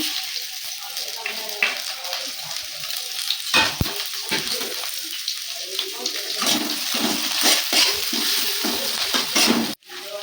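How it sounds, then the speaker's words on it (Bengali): Chopped onion frying in mustard oil in a wok, a loud close sizzle throughout with repeated scraping stir strokes and spatula knocks, ending in an abrupt clunk. "পেঁয়াজ কুচি দিয়ে দেবো"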